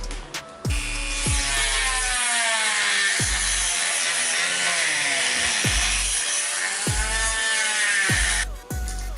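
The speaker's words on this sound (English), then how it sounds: "I got a Dremel. We're gonna cut it and then we're gonna sand it down using one of these other attachments" A Dremel rotary tool cuts through a Varis Arising II side skirt on a 2016 Subaru WRX, a loud, high whining grind that bogs and recovers in repeated strokes, close to the mic, with brief gaps as the tool is eased off.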